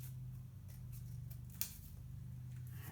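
Scissors snipping through paper to cut out a row of paper figures, a few quiet, crisp cuts heard close up over a low steady hum.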